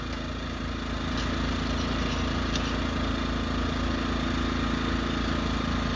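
A portable generator idling in eco mode on a wooden tabletop gives a steady, moderately loud low engine drone with a faint metallic rattle running through it, continuous for the whole stretch with no talking.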